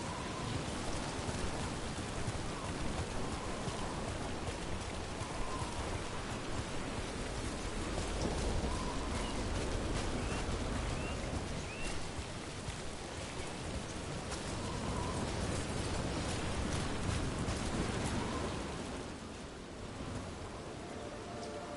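Steady rain in the video game Dragon Age Veilguard, a dense, constant hiss of falling rain with pattering drops on surfaces, sustained throughout and easing slightly near the end, with no voices.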